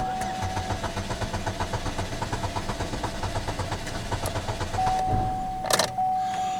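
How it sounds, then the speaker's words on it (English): The starter motor of a Chevrolet HHR cranks in a fast, even chugging rhythm for about five seconds, then hangs up with a harsh grinding burst and a sharp metallic clatter. The sound is close, with no talk. "Starter hung up."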